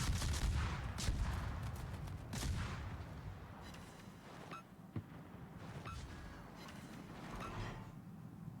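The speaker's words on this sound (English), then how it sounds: "Ooh, that's a nice, tasty, juicy salvo there." A naval video game in which the destroyer Johnston fires gun salvos, heard as several rapid booming shots early on, then scattered quieter shots against a low rumbling battle background.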